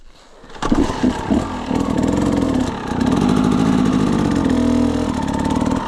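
A dirt bike engine fires up and runs close by, a loud, steady buzzing idle with slight revving fluctuations that continues without interruption after a brief quiet start.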